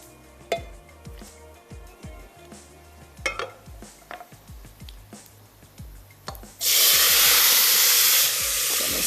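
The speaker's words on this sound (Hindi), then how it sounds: "बस गरम गरम घी में सिर्फ इसको ऐड किया" Fennel seeds are added to hot ghee in a cooking pot. Scattered clinks and small pops give way to a sudden loud, steady sizzling hiss that continues to the end.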